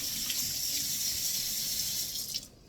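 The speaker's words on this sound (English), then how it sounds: "Kind of wash my hand again." A kitchen tap runs steadily while hands are washed under it during applesauce making, a close, even rush of water that stops abruptly near the end.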